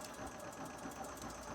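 Small electric motor spinning a loaded rotating setup in a physics experiment, a steady droning whir with a fast regular pulsing beat, continuous and moderately close.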